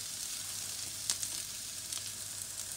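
Pak choy cooks in a pan with softened onion and garlic, producing a soft, even hiss of frying that stays faint and steady, with a couple of slightly brighter crackles.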